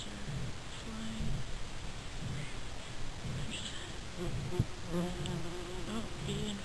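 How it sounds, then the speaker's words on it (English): A bee hovers right in front of the camera outdoors, its close buzzing drone rising and fading in short bursts over rustling and faint ambient noise. "Oh, bee in front of my camera."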